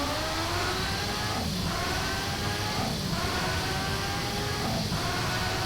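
A 1991 Formula 1 car in a sim racing game revs hard at a steady pitch, with three brief dips where the throttle lifts for gear shifts, continuous and fairly loud without speech.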